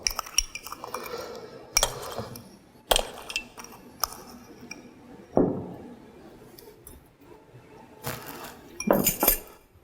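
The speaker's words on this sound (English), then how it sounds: "you're just gonna stir the pot again" A spoon stirs a pot of food with white wine and kosher salt added, giving scattered metallic clinks and scrapes against the pot, some sharp and close, with quieter rustling between them.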